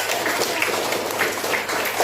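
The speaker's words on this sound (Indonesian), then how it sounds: "Tepuk tangan." A group of people in a classroom or session applauds together, brisk dense clapping that holds steady for a couple of seconds.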